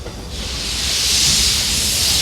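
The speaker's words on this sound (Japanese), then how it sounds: "これあれだ、蒸気機関車が走るんですよ" A steam locomotive at Umekoji Park in Kyoto hisses loudly as it runs, a broad continuous rush of escaping steam building in strength and staying steady.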